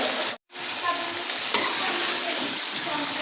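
Potatoes and peas stir-frying in a pan for pulao, a loud, close, continuous sizzle with a brief drop-out near the start and faint stirring scrapes underneath.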